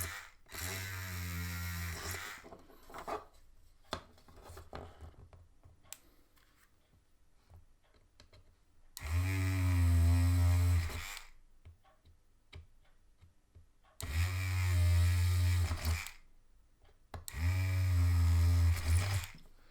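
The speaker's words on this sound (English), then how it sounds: "just going to quickly whiz through, knock the holes out" A small power tool whirs in bursts, drilling holes into plastic parts of a Dragon 1/35 M4A3 Sherman model kit, with three loud close runs and quieter clicks between them.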